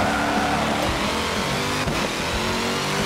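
Engine of a Chevrolet Corvette race car in a racing video game, a steady loud roar at high revs that holds throughout, close and unbroken, with no voices.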